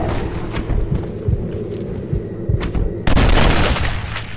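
Gunshots from the Western video game Red Dead Redemption: Undead Nightmare: scattered low booms over a steady ambient rumble, closing with one loud, sharp blast that rings out for over a second.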